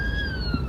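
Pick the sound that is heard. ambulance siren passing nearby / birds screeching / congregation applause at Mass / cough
ambulance siren passing nearby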